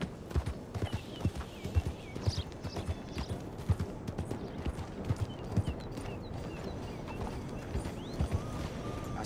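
Horse hooves clip-clop in Red Dead Redemption 2, a close, irregular run of hoof strikes over a steady rumbling bed, with faint high chirps in the background and no talk.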